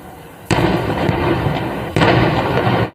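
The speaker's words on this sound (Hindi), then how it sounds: "देखिए एक के बाद एक सिलेंडर यहां पर फटते चले गए" Gas cylinders on a burning truck loaded with about 150 of them explode one after another, two sharp loud blasts followed by dense roaring crackle, heard from fairly close with no talk.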